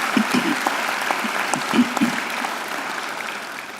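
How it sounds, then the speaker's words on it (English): An audience at a university graduation ceremony gives a round of applause, sustained clapping that is loudest at the start and tapers gently toward the end. "I think Sue deserves another great round of applause"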